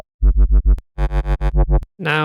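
Serum 2 bass synth patch with phase distortion, in the style of UK bass: a run of short, punchy, harmonically rich bass notes in a choppy rhythm, then a brighter sustained distorted tone at the end.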